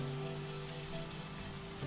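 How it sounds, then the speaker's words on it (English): Steady rain patters continuously in the video game Airport CEO, a dense even hiss beneath a low constant hum, with no speech. "And it's raining."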